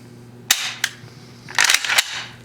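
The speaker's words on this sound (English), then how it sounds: "I'll just leave the mag out for a second so that I can cycle." A firearm's action is cycled by hand with the magazine removed, giving several sharp metallic clacks and sliding rattles in quick succession, close and fairly loud with no talk.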